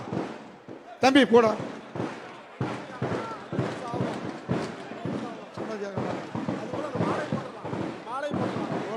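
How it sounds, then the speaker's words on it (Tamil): Rapid crackling firecracker bursts popping in irregular clusters, with a louder bang early on, while people talk nearby. "பட்டாசு நிறுத்த சொல்றா"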